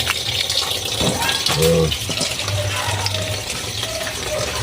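Water gushes and splashes steadily as salted kimchi ingredients are rinsed in a basin at home, a continuous close wash with a person talking briefly over it.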